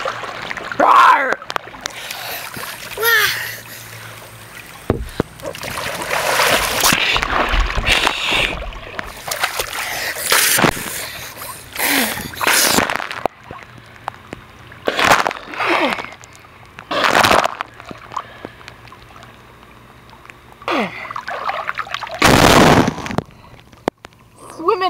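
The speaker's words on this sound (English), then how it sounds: "Swimming, swimming, we're swimming, we're swimming." Young children splash and thrash in water with repeated sharp, loud bursts and sprays, close by, interspersed with quieter moments as they talk and shout.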